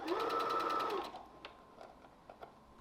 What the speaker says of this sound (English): we're going to sew a seam allowance around the, make sure that you're about a 1/2 inch in. Do a back stitch.